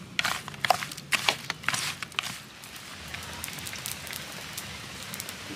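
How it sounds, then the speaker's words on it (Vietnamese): Rain patters onto a surface nearby, with a cluster of sharper drips early on, then settling into a soft, steady hiss. "Trời đang nắng cái tự nhiên cái mưa."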